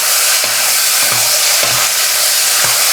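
Lamb pieces sizzle loudly in a hot pot for a one-pot stew, a constant close frying hiss with a few faint scrapes or knocks of stirring underneath.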